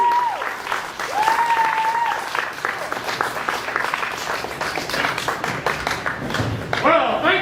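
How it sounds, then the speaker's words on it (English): A comedy club audience on Halloween night gives a big round of applause for the final comedian, loud clapping and some cheering with a voice speaking over it and a few whistles. "give a huge round of applause"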